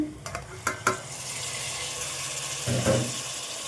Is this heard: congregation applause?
no